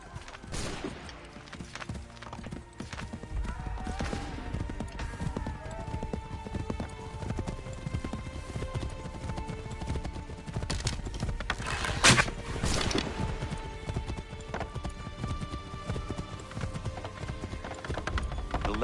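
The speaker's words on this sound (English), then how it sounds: "Take that horse, Radon Hagedon." Horse hooves clip-clopping in the Assassin's Creed III video game, a steady trotting rhythm under a background of game ambience and music, with a short, louder clatter near the middle.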